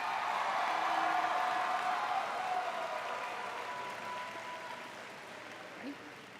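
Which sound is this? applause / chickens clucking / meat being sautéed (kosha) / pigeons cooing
applause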